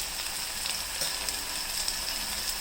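Tomato and onion pieces sizzle steadily in a hot pan for a curry, a continuous close crackling hiss with small pops throughout.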